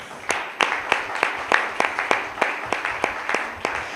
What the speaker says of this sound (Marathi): टाळी वाजून देवाला धन्यवाद आहे